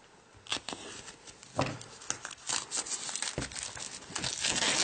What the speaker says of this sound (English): So let's go ahead and cut into this plastic and take a look.